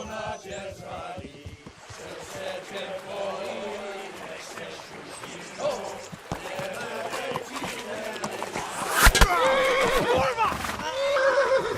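Horse in Kingdom Come Deliverance whinnying several times amid galloping hoof clatter and battle noise, a sharp loud cry near the end, with voices speaking throughout.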